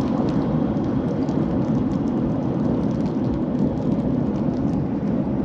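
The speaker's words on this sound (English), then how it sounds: "there are so many moths hitting the front of the car. It's like it's raining" Dense, steady patter of many moths striking the front of a moving car near the Valley of the Giants, resembling heavy rain, with continuous broadband noise and road rumble throughout.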